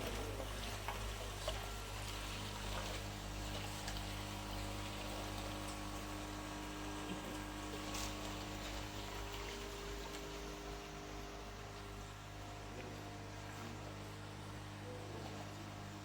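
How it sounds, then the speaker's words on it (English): An LP60 fish farm aerator runs in a pond, giving a steady, continuous churning and splashing of water with a low mechanical hum underneath, constant and fairly even throughout. "So this is how it works when you set up this aerator."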